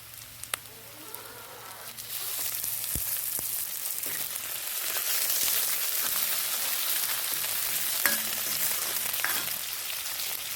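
Chicken pieces fry in a pan with sautéed small onions for a chicken bone soup, giving a steady broadband sizzle throughout with a few sharp crackles and pops, close and fairly loud, with no talking.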